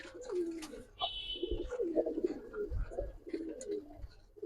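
Sapchila Giribaz pigeons coo softly and close by in low, rolling phrases, with a few brief higher chirps and light rustling between the calls.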